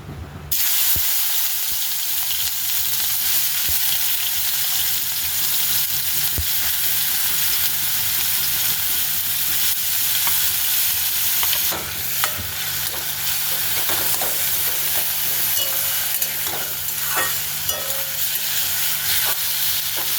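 Food frying in a small amount of oil in a pan, a loud continuous hiss and sizzle that carries on steadily with a few brief scrapes and crackles of stirring.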